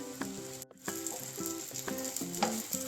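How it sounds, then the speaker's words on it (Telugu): Brinjal slices fry on a hot tawa with a steady, close oil sizzle, broken by a brief hush and a few light clicks of a spatula against the pan. "ఇది ఫ్రంట్ అండ్ బ్యాక్ అయితే బాగా వేగిపోయింది"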